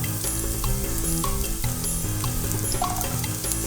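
Shallots fry in a pan for Angamaly mango curry, a steady dense sizzle with scattered crackles and faint scraping, close and continuous.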